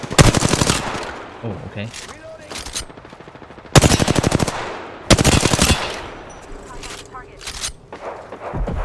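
Bursts of automatic gunfire in Apex Legends, loud rapid volleys separated by short pauses, with a player talking between the shots.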